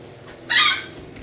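A chicken clucks once in a short, loud burst that rises out of a quiet room. No one speaks.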